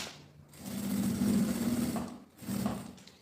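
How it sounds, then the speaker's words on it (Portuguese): A sewing machine stitches a messenger bag along the back of the flap, running in two steady bursts of rapid mechanical whirring with a short pause between them, loud and close. "Já vou começar aqui a costura, ó, já pela parte aqui atrás da aba mesmo"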